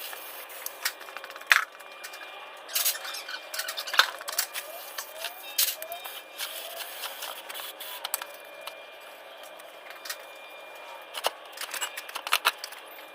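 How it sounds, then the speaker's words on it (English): A wire brush scrubs a trailer wheel hub clean, giving scattered scratchy bursts and metallic clicks of varying loudness, close and with no talking. "we're going to take a wire brush to it and clean it all down, clean the whole hub"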